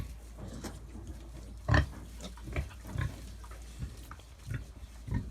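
Mangalica pigs grunting and snuffling close by, with short irregular grunts over a low, steady background.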